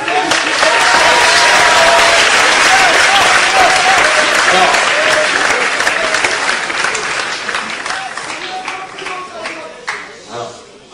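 A large theatre audience at a French comedy show applauds loudly and densely, the clapping staying full for several seconds before thinning into scattered claps that fade away near the end.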